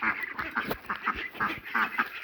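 Ducks in a coop at morning feeding time quack in a steady chorus of overlapping, raspy calls, close by and continuous with no one speaking.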